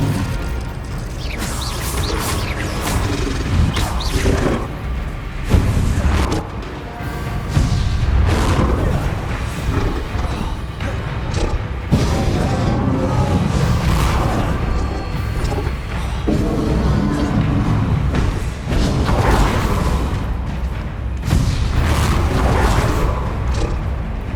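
Spells cast in rapid succession during Hogwarts Legacy combat, with loud, dense booms, crashes and blasts layered over a constant rumble, and a voice shouting the incantations amid the fighting.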